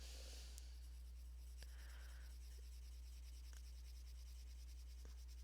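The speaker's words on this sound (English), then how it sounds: "Now we're going to take our blender pencil" Prismacolor blender pencil rubbing and scratching across paper in short, faint strokes close up, quiet and without speech.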